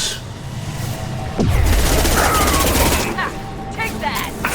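Gunfire and heavy impacts from the Mass Effect Legendary Edition game fill the clip, with dense repeated shots and a loud booming hit near the middle, over a steady battle din.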